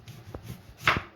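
A knife cuts through cabbage for coleslaw on a board, giving a few soft crunching chops, the last one sharper and louder.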